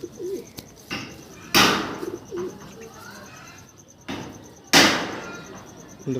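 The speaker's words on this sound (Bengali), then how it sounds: "একসাথে দিল্লিরই পায়রা এটা" Delhi pigeons coo softly in low, rounded calls at a loft, interrupted by two sharp loud bursts like wingbeats or flapping nearby.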